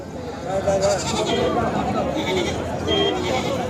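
Goats and sheep bleat at the Sangola livestock market, several wavering cries rising over a busy crowd of nearby talking voices and general market chatter.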